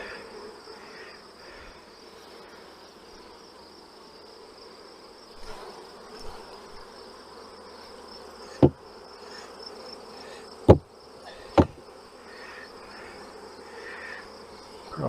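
Honey bees buzz in a hive box during a late-summer honey pull, a steady dense hum throughout, broken near the end by a few sharp knocks or taps.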